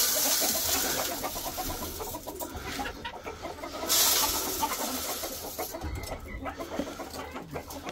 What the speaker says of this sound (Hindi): ये लाल मुर्गी मेरे साथ साथ चल रही है, इसको पता दाना आ गया।